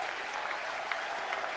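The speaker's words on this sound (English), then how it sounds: "Give Jennifer a big round of applause." A political rally crowd claps steadily in a dense, even wash of applause, heard from a moderate distance with no voices.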